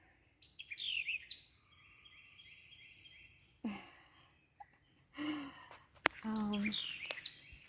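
Bright, high chirps and tweets from birds scattered through the clip, some in quick trilled bursts, with occasional breathy sounds and movement nearby.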